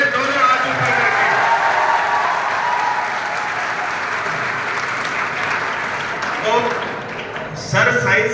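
Students in a school hall applaud their teacher as he comes onto the stage, a steady loud wash of clapping from a large crowd that holds for several seconds and thins a little near the end.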